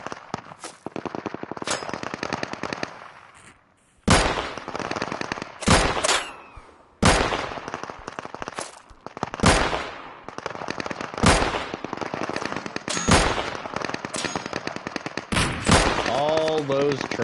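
VSD rifle fire in the video game Deadside: loud, close bursts of rapid shots with short pauses between volleys and a few clanging echoes.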